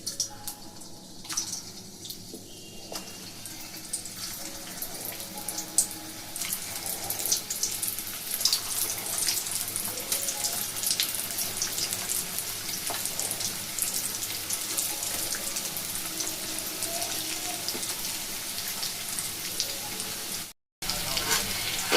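Mini singaras, small pastry-wrapped snacks, frying in hot oil, a steady broadband sizzle and bubbling that runs continuously at moderate level with small crackles, briefly cutting out near the end.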